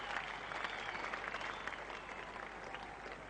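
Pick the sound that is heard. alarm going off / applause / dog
applause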